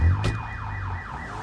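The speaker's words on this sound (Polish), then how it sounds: "Przestań wyć alarmie." A car alarm wails in the video game Sleeping Dogs, its pitch sweeping up and down in steady repeating cycles, loud and close, with a low engine-like hum underneath and no talking.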